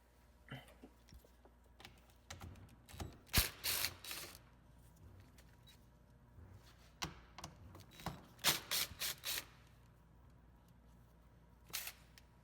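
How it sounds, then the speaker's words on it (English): Three 10mm nuts are loosened and removed from a Honda Pilot side mirror mount, producing close, intermittent clusters of sharp metallic clicks and ratcheting rattles separated by quiet pauses. "there's three 10mm nuts that hold the mirror on. Go ahead and take those off."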